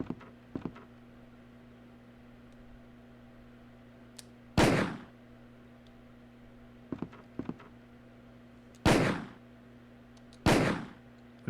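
Several loud gunshots from the Resident Evil PlayStation game, sounding as isolated sharp blasts spaced a few seconds apart over a low steady hum, with quieter clicks and thuds in between.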